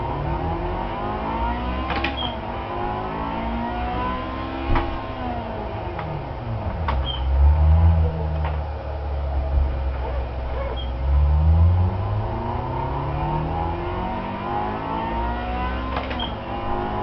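A car engine with a manual transmission revs up and settles in a couple of swelling pulses while downshifting, over steady road hum, with faint clicks from the cabin and no speech.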